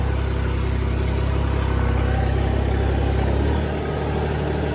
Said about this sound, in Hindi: अभी 4x4 गियर नहीं डाला है, तो आप देख सकते हो ट्रैक्टर कितना कैसा चल रहा है।